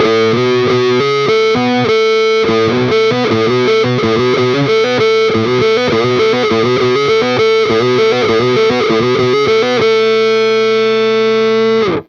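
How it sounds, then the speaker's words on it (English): Distorted electric guitar plays a busy riff through a wah pedal set to a thick, throaty tone, ending on a sustained ringing chord. "I'm going to bring it all the way back so it's got a real throaty sound to it"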